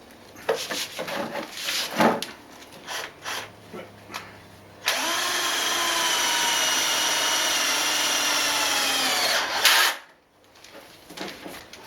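Clattering and knocking noises give way to a power drill driving self-drilling, self-tapping screws, running steadily for about five seconds, loud and close, before stopping abruptly.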